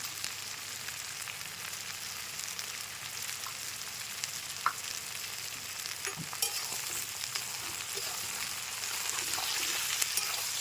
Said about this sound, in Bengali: তো দেখো আমার পেঁয়াজটা কষানো হয়ে গেছে।